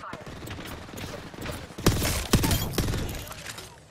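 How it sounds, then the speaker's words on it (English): Gunfire in Apex Legends, a rapid cluster of sharp, loud shots in bursts near the middle of the clip over background game noise. "Opening fire."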